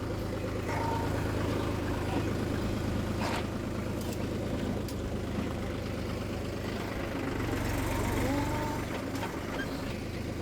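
A tractor engine idles and runs steadily with a constant low rumble, close by and unbroken throughout, in a rural setting.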